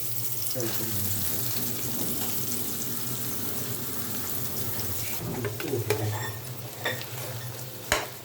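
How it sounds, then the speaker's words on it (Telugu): Soaked soya chunks (meal maker) fry in hot oil with a continuous sizzling hiss, stirred steadily throughout, with a few sharper clinks and scrapes of the utensil toward the end. "నూనె వేడయ్యాక మీల్ మేకర్స్ వేసుకోవాలి"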